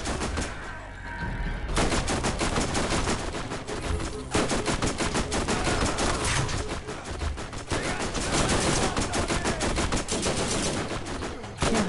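Turret gunfire in Borderlands, a fast and almost continuous burst of automatic shots that runs for the full stretch, briefly broken by a few short gaps, loud and close with game noise mixed in.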